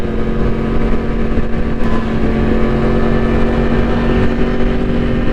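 Yamaha R1 and Honda CBR1000RR sport motorcycles pulling hard through third gear, a loud, continuous, steady engine drone heard close up with no break and no talk.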